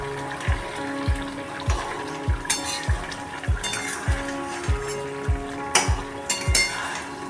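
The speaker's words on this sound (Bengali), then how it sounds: "ঝোলটা খুব সুন্দর ফুটে গেছে দেখুন" A thin Bengali fish curry with fish pieces and slit green chillies bubbles in a pot, a steady rolling boil with regular low bloops about every half second over a constant simmering hiss, close and unbroken by speech.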